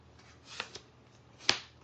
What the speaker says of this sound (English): now I'm going to deal these out, shuffle these all up,